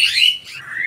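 Myna birds squabble close by in a brief burst of shrill, harsh chirps, two quick calls sliding downward, loud and clear with nothing else in the background.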